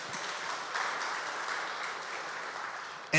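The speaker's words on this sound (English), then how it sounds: "Round of applause for that." Audience applause at a cybersecurity innovation forum in San Antonio, a steady wash of many hands clapping that holds for about three seconds before cutting off abruptly.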